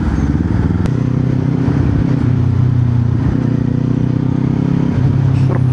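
A Kawasaki Z400 motorcycle on a ride to work, its engine droning loudly and steadily with slight shifts in pitch as it holds speed, heard close with constant road noise and no talking.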